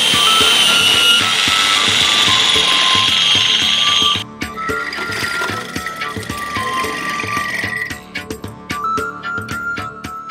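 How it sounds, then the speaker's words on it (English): A power drill bores a hole through the bottom of a school bus being converted for living. A steady high motor whine runs for about four seconds, then shifts into rougher grinding and clattering as the bit works through the floor. "I got to drill a hole through the bottom of my bus"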